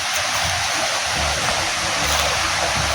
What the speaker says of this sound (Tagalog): Sapa na yan.